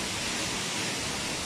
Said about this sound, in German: hinter dem Wildensteiner Wasserfall